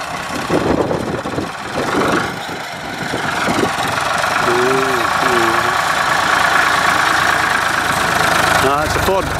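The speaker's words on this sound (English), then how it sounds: "It's a Ford 4600 and a Hardy sprayer there." A Ford 4600 tractor pulling a Hardy sprayer runs at a steady, loud idle-like drone with a mechanical rattle, close by on farmland near the England–Scotland border, while people talk over it.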